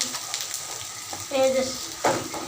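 Chili powder and spices sizzle and fry with onions in a pan for fish curry while a spoon stirs and scrapes in a few short strokes, close and fairly loud.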